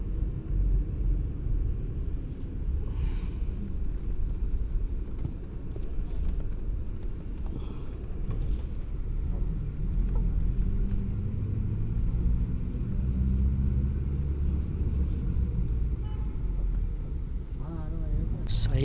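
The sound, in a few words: Dolphin luxury bus driving on highway at night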